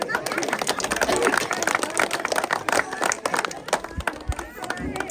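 Crowd at a school event in Balaghat clapping steadily for several seconds, a dense continuous patter of many hands with chatter mixed in and a voice speaking over it.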